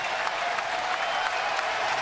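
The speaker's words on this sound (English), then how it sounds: "And getting a round of applause." Baseball fans at an Orioles home game against the Phillies give a steady round of applause after a backhanded defensive play, the clapping dense and moderately distant throughout.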